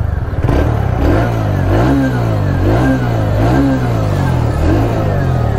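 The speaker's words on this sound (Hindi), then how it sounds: "एक बार अभी मैं इसको स्टार्ट करूँगा एग्जॉस्ट भी" A 2023 TVS Radeon 110 E20 motorcycle engine idles close by, then revs up and down in several rhythmic blips through the exhaust, loud and alone.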